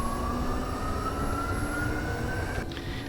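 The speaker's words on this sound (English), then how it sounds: "our rotors are going to start moving, as you can see." The rotors of a Gazelle helicopter spin up in DCS during engine start, with a steady turbine whine rising slowly in pitch over a dense, constant roar and a faint shift near the end.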